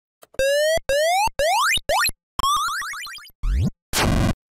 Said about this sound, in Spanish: El siguiente comando es un deslice de tono en ascenso